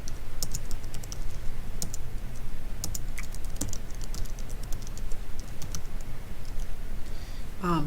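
Fingers tap out an email address on a computer keyboard, a steady run of close, light key clicks over faint background hum with no talking.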